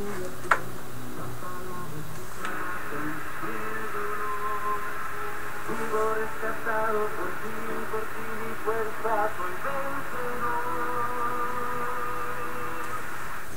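Radio audio with a steady layer of hiss running throughout, tonal music-like bands rising and falling over a broad noise floor, no clear speech.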